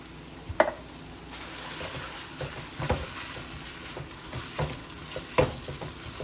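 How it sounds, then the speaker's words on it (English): Petite diced tomatoes are stirred into a pan with a soft background sizzle, marked by a few distinct scraping clacks of the spoon against the pan, spaced irregularly a second or two apart. "Petite diced tomatoes. We're going to put that in here."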